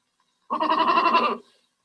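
A goat bleats once, a single sustained wavering cry close to the listener and alone, with no talk over it.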